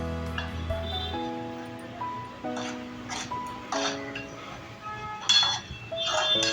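A spoon clinks and scrapes in a pan, sautéing Agri masala and turmeric for an Agri-style fish curry, with a series of light metallic taps over soft background music.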